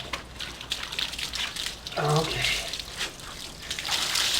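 Water is poured over a German Shepherd to rinse soap suds from her coat, a steady splashing trickle with a brief louder gush midway, while a person speaks nearby.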